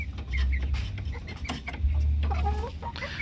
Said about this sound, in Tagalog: So ito yung stag, ito yung pullet